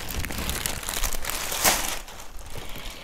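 A plastic bag from a boxing training toy set being crinkled and set aside, close, busy rustling and crackling for a few seconds with one sharper crunch in the middle.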